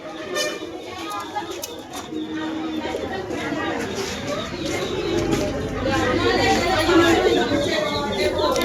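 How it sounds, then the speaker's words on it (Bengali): Pigeons coo softly amid a busy crowd of chattering voices, the cooing partly buried under the steady hum of people talking. "কবুতর আছে"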